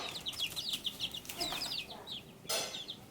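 Chickens that have grown large in their coop, clucking in short high chirpy calls close by, with rustling and a sudden flurry near the end.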